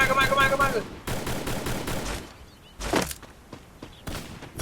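Gunfire rings out in a shooting video game: rapid bursts of shots followed by separate single blasts, loud and close, with a voice speaking over the opening.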